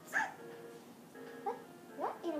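A cartoon dog from the video game Littlest Pet Shop gives three short bright barks or yips, spaced apart, clear and close over a quiet background.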